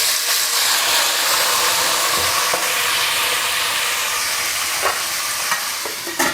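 Mutton pieces hit hot oil left from fried onions, setting off a loud, steady sizzle that fills the whole stretch, with a few soft clinks of stirring near the end.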